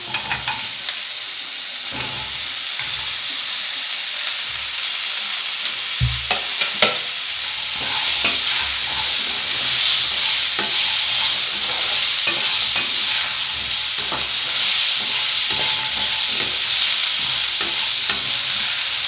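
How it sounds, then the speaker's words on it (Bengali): Potatoes and onions fry in a pan with a loud, steady sizzle, overlaid by repeated scraping and clatter of a spatula stirring them, close up and without any talking. "এবার পেঁয়াজের সাথে আলুটা একটু ভেজে নেব।"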